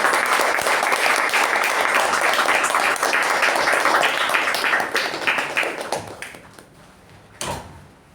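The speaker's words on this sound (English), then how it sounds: "Let's give them a huge round of applause." Sustained audience applause at a Toastmasters meeting award presentation, steady and dense for about six seconds before thinning out and fading, with a brief final burst of claps.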